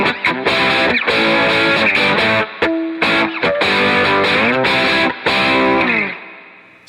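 Electric guitar through stacked overdrive pedals plays loud, raunchy, gritty chords and riffs with brief gaps, then lets the final chord ring and fade.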